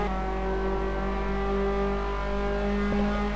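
F3 race car engine at the A1 Ring circuit, a steady, loud, high-revving tonal drone held close while racing, with a brief shift blip near the end.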